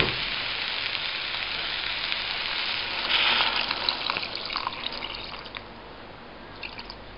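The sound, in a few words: tamarind puree being poured into eggplant mixture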